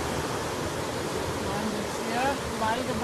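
A rushing mountain river in the Dolomites gives off a steady, full hiss of tumbling water that stays close and constant throughout, with no clear speech over it.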